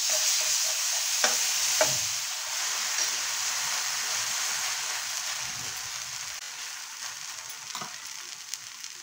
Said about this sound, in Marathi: आता आपण पाव शेकून घेऊया. आता मी पाव घेतले आहेत, त्याला हे जे व्हाईट बटर आहे ते मी लावते आहे.